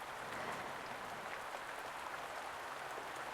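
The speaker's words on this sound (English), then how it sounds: "the sound of raindrops as they hit the window pane" Steady, soft patter of raindrops striking a window pane, a dense even hiss of tiny taps with no pauses, heard alone at low volume.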